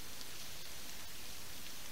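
Steady rain falls through the woods on a bow-hunting day, an even, close hiss of drops with no voices.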